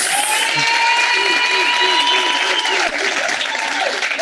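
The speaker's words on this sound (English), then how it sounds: "Can we give Dr. Nyati a big round of applause?" Steady audience applause rises at a Johannesburg city council gathering for a guest doctor, with a sustained tonal voice or hum held above the clapping throughout.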